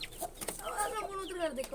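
Chickens clucking close by, a rooster and hen giving short rapid clucks, with a person's voice mixed in briefly.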